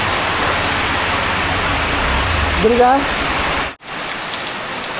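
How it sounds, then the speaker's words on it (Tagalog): Heavy rain pours down steadily in a dense, loud hiss, with a short spoken question partway through and a brief cut near the end. "Malakas na ang ulan."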